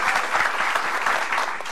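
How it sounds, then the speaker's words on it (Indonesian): A studio audience on a talk show greets two guests with loud, dense applause, steady and close throughout the short stretch. "Tepuk tangan untuk mereka berdua."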